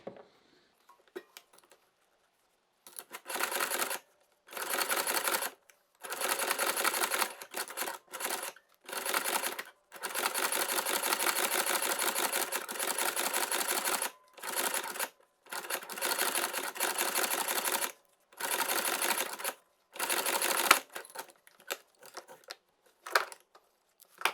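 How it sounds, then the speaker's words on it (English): A $115 leather stitching machine runs through a small leather ID pouch, its rapid mechanical stitching coming in steady bursts of a few seconds each with short pauses between, close and fairly loud with no talking. "I was able to stitch up this little leather ID pouch"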